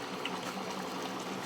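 Milk from a whole packet poured into a pot, a steady liquid gushing and splashing that holds at an even level without pause and with no talking.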